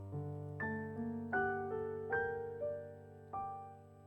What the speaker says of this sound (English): this is the sound of the piano on the Casio